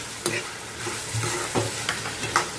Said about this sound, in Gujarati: અને આપણે તેને થવા દેવાનું છે તેલમાં, જસ્ટ ઓનલી તેલમાં.